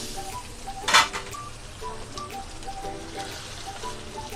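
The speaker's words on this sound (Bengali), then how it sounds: "ঢাকনাটা তুলে নিচ্ছি" A metal lid comes off a pot of simmering shahi chicken korma with one brief clanking scrape, close and clear above a soft, continuous background bubbling.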